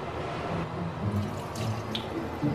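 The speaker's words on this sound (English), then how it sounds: "Okay, so let's put water on this." Water runs steadily from a tap onto an old towel, a continuous close splashing stream lasting a few seconds with no talk.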